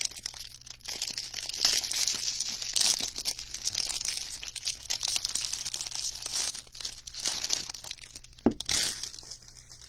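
Paper wrappers from 2022 Bowman Draft baseball card packs crumple and tear close to the mic, a steady crinkling texture with bursts of louder rustling and one sharp rip near the end.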